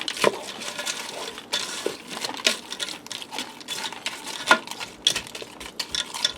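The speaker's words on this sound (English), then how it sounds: "I'm going to stir them in." A spoon stirs Fritos corn chips into a beef nacho bake inside a Ninja Foodi pot, making close, crunchy scraping and rustling with scattered clinks against the pot.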